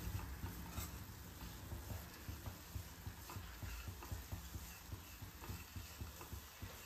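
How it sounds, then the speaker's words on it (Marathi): Jaggery for modak filling melts in a pan over very low heat, a steady soft bubbling hiss with faint rhythmic stirring scrapes throughout, quiet and close. "आता आपल्याला हा गूळ व्यवस्थित मेल्ट करून घ्यायचा आहे।"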